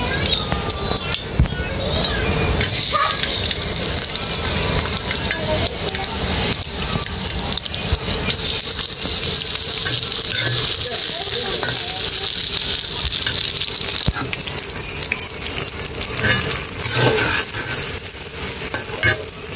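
Fish fries in hot oil in a wok, giving a loud, steady sizzle that carries on without a break, with stirring scrapes and a voice speaking over it now and then.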